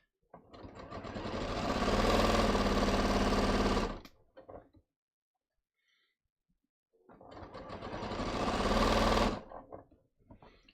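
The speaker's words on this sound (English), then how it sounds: "I'm just going to finish sewing these." A sewing machine stitches a pant leg hem in two long runs, its motor whirring up to a steady, loud buzzing drone before stopping, with a quiet pause between the bursts.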